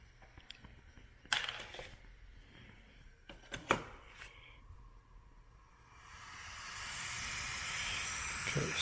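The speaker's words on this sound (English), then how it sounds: "Light the stove." An MSR camping stove being lit: a few sharp clicks and knocks, then a rising, steady gas hiss as the burner catches and roars on, close and moderately loud.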